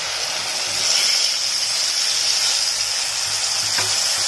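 Oil heating in a pan for Odia drumstick pickle, a steady bright sizzle and hiss running evenly throughout, close and fairly loud with no voices.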